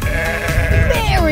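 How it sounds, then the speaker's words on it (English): A sheep bleats loudly and close on a farm, a single wavering call with a soft voice faintly underneath. "Look, it's a black sheep."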